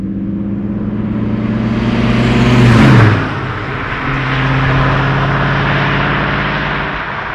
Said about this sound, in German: die Maschine klingt richtig gut, er zieht auch gut durch